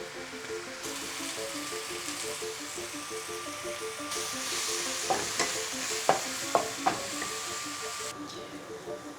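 Mushrooms fry in a pan with a steady close sizzle, and several distinct scraping stir strokes land in the later half.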